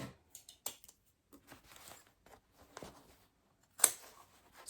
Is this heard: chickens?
no